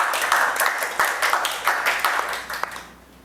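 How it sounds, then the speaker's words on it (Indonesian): Short round of clapping from a small audience on an Indonesian podcast, rhythmic, distinct claps for about three seconds that then stop into quiet. "Tepuk tangan dulu dong."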